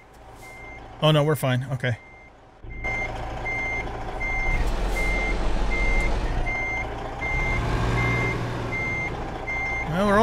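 In American Truck Simulator, a truck backs up with evenly spaced reversing beeps over a low diesel rumble, while someone speaks briefly near the start.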